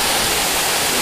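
Aji waterfall, a cascade listed among Japan's top 100 waterfalls in Okumikawa, Aichi, roars as a steady, dense broadband rush of falling water, close and continuous with no voices.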